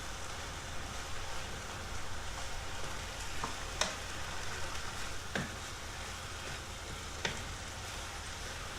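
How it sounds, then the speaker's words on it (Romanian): Chopped tomatoes sizzle and fry steadily in a pan for a potato moussaka, with a continuous crackling hiss broken by a few sharp clicks from stirring utensils. "Și acum punem roșiile tocate"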